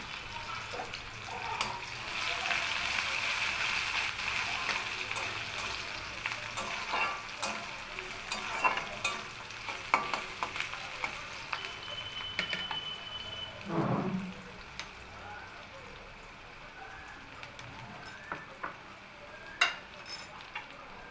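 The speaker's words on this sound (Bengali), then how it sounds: "পেঁয়াজটা দিয়ে একটু ভাজা ভাজা করে নেব" Chopped onions fry in hot oil tempered with nigella seeds in a wok, giving a continuous sizzle broken by scraping stirs and clinks that fade gradually toward the end.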